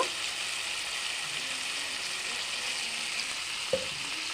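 Spices, green chillies and melon seeds frying together in a pan, giving a soft, steady hiss with one brief knock of a utensil near the end.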